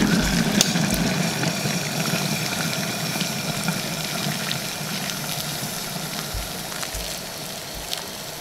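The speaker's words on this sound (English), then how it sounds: "But the remaining hot water I'm going to add." Hot water is poured into a pot of Trinidad pigtail pelau, a continuous close splashing gush with some light clinks, lasting several seconds.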